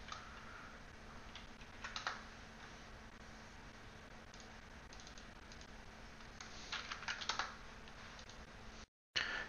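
Quiet, scattered keystrokes tap on a computer keyboard in short irregular clusters over a steady low hum, with no talking.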